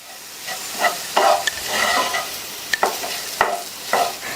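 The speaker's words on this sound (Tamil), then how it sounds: "இது கூட நம்ம இப்போ அரைச்ச கலவையை சேர்த்துட்டு நல்லா மிக்ஸ் பண்ணி விட்டுருங்க" Cooked carrots being stirred with a freshly ground spice and garlic mixture in a pan for a Tamil carrot fry, giving soft scraping and clanking strokes of a spoon over a light sizzle, with no talking.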